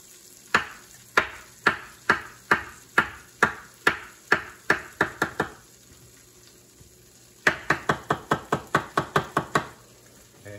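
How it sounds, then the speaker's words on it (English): A knife chops mushrooms on a cutting board in a home kitchen, with about a dozen sharp, evenly spaced knocks, a short pause, then a quicker run of close, crisp cuts. "I'm going to go ahead and chop up some mushroom"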